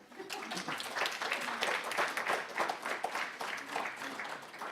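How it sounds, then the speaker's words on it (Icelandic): An audience at a tourism-industry education morning in Akureyri bursts into applause, dense many-handed clapping that builds quickly and holds steady, moderately loud with a few voices mixed in. "Þið megi klappa."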